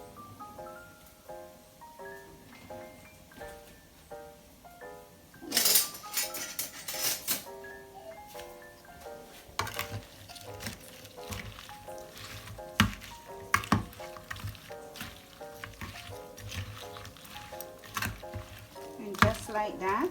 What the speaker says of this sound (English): So I'm adding the fish seasoning to it, and I'm just going to mix that up